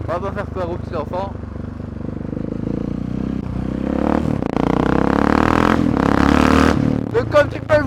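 Husqvarna 701 motorcycle ridden at low speed: the single-cylinder engine rises and pulls through several accelerations, loud and close, with a rider talking over it at the start and end.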